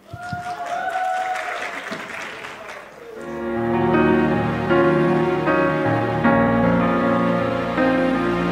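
Audience applause greets an 11-year-old girl taking the stage at the Nova Latinitas 2023 song contest; a steady wash of clapping fills the first few seconds before a backing music track swells in and plays on alone.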